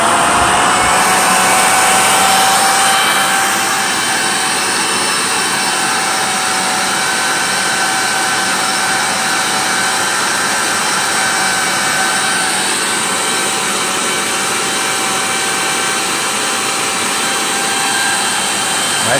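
A Miele Callisto S5281 vacuum cleaner runs at full airflow, giving a loud, steady, high-pitched motor roar and rushing-air whine that holds unbroken from start to finish.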